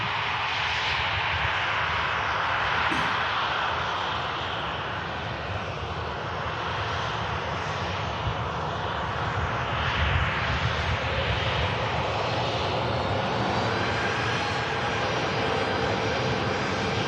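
An airliner arriving at Manchester Airport, a steady, loud engine roar that stays close and constant throughout with no speech.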